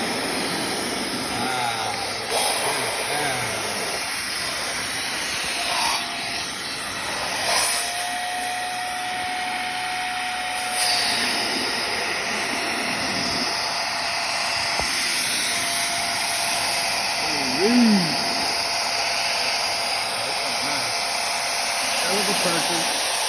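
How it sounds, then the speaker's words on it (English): A Hoover Clean Slate XL carpet cleaner vacuums a stain, giving a continuous loud suction roar with bursts and shifts as it passes over the carpet. "Now let's hit it with the vacuum"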